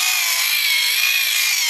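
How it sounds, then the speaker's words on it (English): An electric shoe polisher buffs a boot with a steady, loud, close whirring hiss that holds unbroken throughout, with no talk. "I have a present from my son, this electric shoe polisher, and I just apply to the boot"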